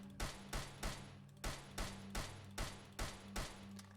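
A PSL Dragunov-style sniper rifle in Fallout 4 fires about ten sharp shots at a steady, rapid rhythm, each crack standing out over a low constant hum, with no talking.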